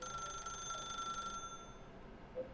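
A telephone in The Stanley Parable rings with a steady, faint electronic trill that cuts off partway through, leaving near silence with one small soft knock near the end.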